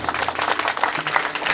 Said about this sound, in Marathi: मला वाटलं जरा मोठ्याने वाजवसाल टाळी